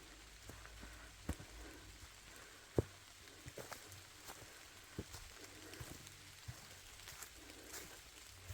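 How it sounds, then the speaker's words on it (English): Rain falls in a forest along a lakeside hiking trail, a soft, steady hiss of drops on leaves and ground, broken by a few louder individual drips and taps, faint and calm with no voices. "If you listen carefully, the rain is getting much heavier,"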